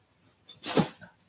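A single short, sharp sneeze bursts out after a faint intake of breath, fairly quiet, and then fades.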